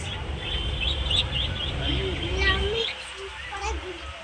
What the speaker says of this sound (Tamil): இங்கே வேற குருவி குருவி